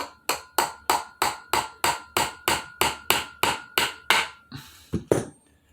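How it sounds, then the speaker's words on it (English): A small picture frame hammer taps repeatedly on metal while fitting vent windows on a 1964 Ford F100, about fifteen sharp, evenly spaced strikes close by, ending with a couple of looser knocks. "Wife's picture frame hammer."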